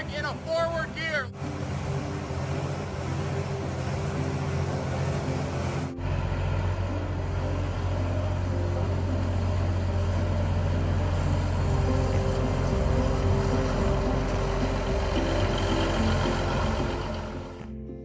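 A Steiger tractor's diesel engine runs in a field, a loud, steady low rumble that swells and stays heavy after the first few seconds.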